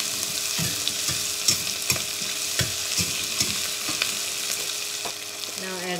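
Onion added to hot oil with curry leaves for an okra curry, frying with a constant crackling sizzle while a spoon knocks and scrapes the pan at an irregular pace, close and alone.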